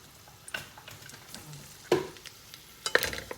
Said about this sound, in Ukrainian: ми взяли баняк, налили олії, масло ми ще не кидаємо, кинули чесночок, два зубчики чесники, роздавили їх просто